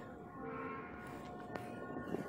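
The Benapole Express runs at steady speed near the Jamuna Bridge, a continuous low rumble of wheels and carriages heard from inside, with a brief sharp clank partway through and no clear talking.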